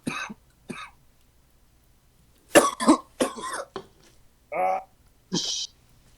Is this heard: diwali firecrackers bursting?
no